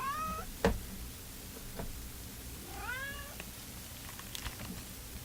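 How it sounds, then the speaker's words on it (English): A house cat meows several times, rising and falling calls spaced apart in a quiet room, with a sharp knock early on and faint background noise. "Nobody wants to hear cat meows."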